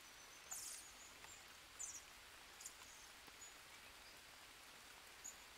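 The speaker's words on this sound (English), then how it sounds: "Nice, and it is raining." Rain falls in the jungle survival video game Green Hell as a soft, steady hiss, with a few faint high chirps and rustles over it; no one speaks.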